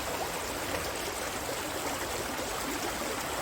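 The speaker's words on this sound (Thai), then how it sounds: "ถ้าเราปล่อยให้น้ำไหลก็จะไหลเรื่อย" Water flowing steadily past a small farm dam built to hold water for vegetable growing, a continuous close rushing trickle with no pauses.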